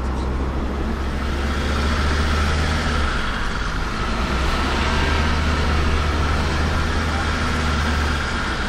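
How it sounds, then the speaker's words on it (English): Steady broadband road noise of traffic passing close by through an open Land Rover Discovery 2 window near a roundabout, continuous and fairly loud throughout. "We're battling with the traffic."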